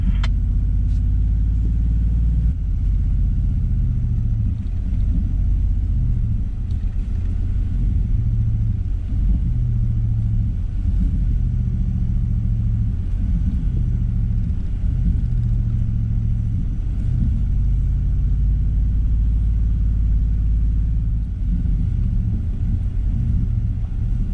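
Nissan Patrol Y62 in first low range with the diff lock on, towing a caravan slowly down a steep offroad hill; a steady, loud low engine rumble and drivetrain drone continue throughout with little change.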